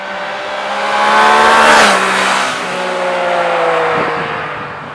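A Yamaha MT-09 SP three-cylinder motorcycle engine revs up loudly with a rising and falling harmonic whine, swelling to a peak, easing, then building again.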